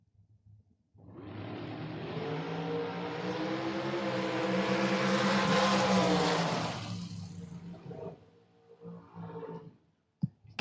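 A dragster launches on a drag strip and tears down the track with a loud, sustained engine roar that builds, holds for several seconds, then fades away into the distance, followed by faint crowd and ambient noise.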